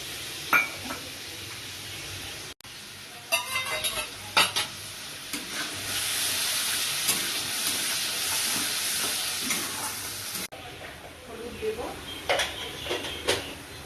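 Spice paste of green chili, red chili powder, cumin and coriander powder goes into hot oil in a pan with chopped tomato while cooking chickpeas. A loud continuous sizzle is broken by repeated stirring scrapes and clinks of a utensil against the pan.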